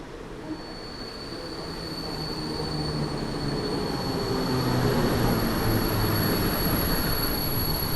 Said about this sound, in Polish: jedzie niezapowiedziany skład z lokomotywą EP09